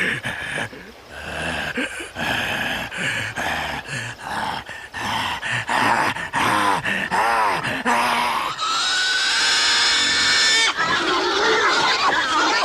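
Pigs in a staged biblical scene squeal and grunt in loud, frantic bursts, with shouting and strained cries mixed in and a sustained high squeal rising near the end.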